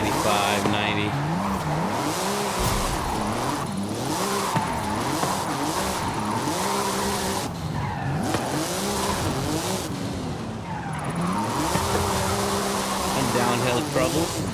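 A Porsche drifts through Forza Horizon 5 on a steering wheel rig, tires squealing in long wavering sweeps over a steady loud engine drone, the pitch rising and falling with each slide.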